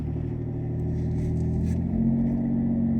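A Jeep JK engine fitted with a Flowmaster exhaust idles and revs, a deep throaty rumble that swells slightly in pitch toward the end, close and loud.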